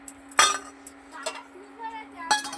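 Sharp clinks of a bowl set over hot water as Dairy Milk chocolate is put in to melt, three distinct ringing knocks close by amid a faint steady hum, with a person speaking between them.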